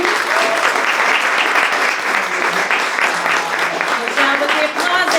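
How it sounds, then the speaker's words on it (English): An audience at a poetry reading and open mic claps in a dense, sustained round of applause, with a few voices and cheers mixed in. "Applauses one more round."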